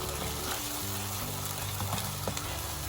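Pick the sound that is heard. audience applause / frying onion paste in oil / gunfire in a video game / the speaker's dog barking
frying onion paste in oil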